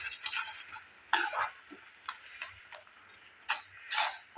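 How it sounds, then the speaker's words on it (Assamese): Powdered milk stirred into an atta mithai mixture, a string of light spoon ticks and scrapes against a bowl, close but quiet, with irregular pauses between strokes. "এইখিনি মই ভালদৰে ইয়াতে মিক্স কৰি ল'ব লাগিব"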